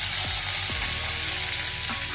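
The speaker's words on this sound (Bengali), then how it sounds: "এগুলো একটু ভাজা হোক।" Garlic and curry leaves fry in hot oil with mustard seeds, giving a continuous loud close sizzle with a few stirring scrapes and no talking.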